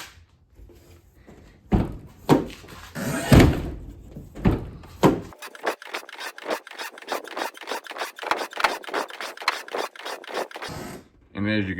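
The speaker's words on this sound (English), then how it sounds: "this thing just opens way smoother than it used to. Still makes a little creaking sound" A Ford Transit van door is worked after its hinge was lubricated: thuds and scraping come first, then a long run of quick, rhythmic rubbing creaks from the moving door.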